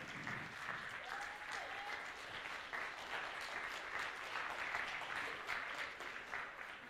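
A steady, dense wash of audience applause fills the hall for a cosplayer on stage at the Swiss Fantasy Show 2018 cosplay contest, holding at an even level throughout with no voices over it.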